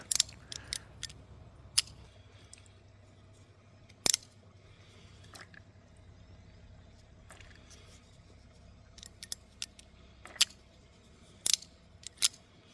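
Sharp clicks from the Hawk Knife Designs Talon's mechanical detent and locking switch, scattered irregularly and fairly close over a quiet background.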